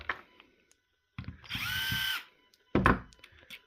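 A power screwdriver backs screws out of a Parkside battery casing. Brief bursts and one sustained whir of under a second alternate with sharp clicks and handling knocks, close and clear.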